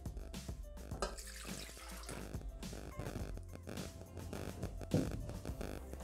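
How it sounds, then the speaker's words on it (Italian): Milk is poured into a Thermomix jug for a savory brioche ring loaf, a soft continuous liquid gurgle and splash close up, quiet and steady for several seconds. "Iniziamo la ricetta mettendo all'interno del boccale il latte."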